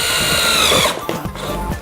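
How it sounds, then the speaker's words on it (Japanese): A power drill bores a hole through an aluminum shift pattern plate for a Nissan S15, a loud steady whine for about a second before it winds down into intermittent lighter whirring bursts. "位置が決まったらドリルでね穴を開けちゃいます。"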